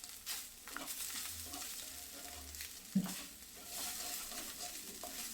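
Already-fried potatoes are stirred into a frying pan for a potato and egg dish, giving a faint, low sizzle with soft scraping stirs and one sharper knock.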